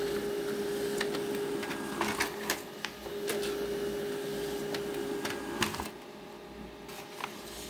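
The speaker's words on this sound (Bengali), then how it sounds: "তো আমরা এখান থেকে প্রিন্ট দিয়ে দিলাম। প্রিন্ট দিয়ে দিলে আমাদের এইটি প্রিন্ট হয়ে যাবে।" A printer runs off a two-page printout of a commercial registration document, giving a steady mechanical whir broken by regular sharp clicks and feed clunks at moderate, close-up volume, with no talking.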